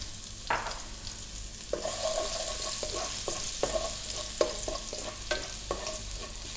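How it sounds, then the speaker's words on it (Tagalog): Garlic frying in fresh cooking oil for pancit, a steady close sizzle broken by repeated scraping taps of a utensil stirring the pan, with no talking. "Ang gagawin natin ngayon ay maglalagay tayo ng panibagong mantika. At ilalagay na natin yung ating garlic."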